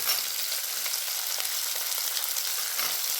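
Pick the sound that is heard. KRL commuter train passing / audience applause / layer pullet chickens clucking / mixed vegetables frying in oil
mixed vegetables frying in oil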